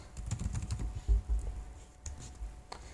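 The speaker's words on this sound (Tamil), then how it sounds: "அடுத்த இமெயில் ஐடியை டைப் பண்ணுங்கள்." Keys clatter on a computer keyboard as an email address is typed into a Gmail filter, a close, quick run of uneven taps with short pauses, no voices present.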